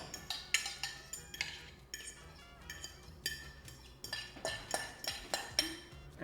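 Ceviche ingredients mixed in a bowl, quick repeated clinks and scrapes of a utensil against the dish in an uneven stirring rhythm, close and fairly soft.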